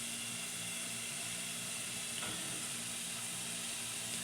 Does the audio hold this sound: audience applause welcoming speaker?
no